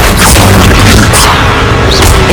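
Expelliarmus spell cast in the Hogwarts Legacy video game, a loud, dense booming burst of magical combat noise with crackling impacts and a whooshing sweep, sustained throughout without pause.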